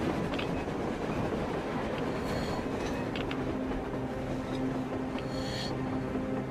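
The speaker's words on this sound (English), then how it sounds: "A damn train on the surface!" Train rolling along on the surface in the game Metro Exodus, a steady low rumble with faint clickety-clack and metallic squeals, heard from some distance with no other sounds over it.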